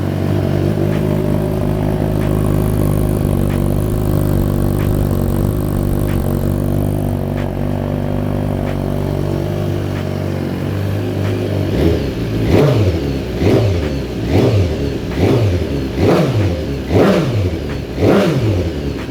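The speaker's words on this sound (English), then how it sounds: "And now, the moment of truth. I will start the bike." BMW S1000RR motorcycle fitted with a LeoVince full exhaust, first idling with a steady loud rumble, then revved in a series of rhythmic sharp throttle blips, close and alone.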